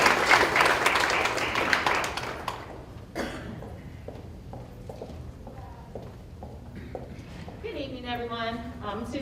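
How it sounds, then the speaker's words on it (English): Audience applause for a student at a school board meeting, a short burst of clapping that fades after about two seconds, followed by speech. "Let's give her a round of applause as well."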